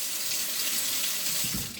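A kitchen tap runs steadily while hands or eyes are rinsed under it, a close, even rushing hiss with a slight splash change near the end.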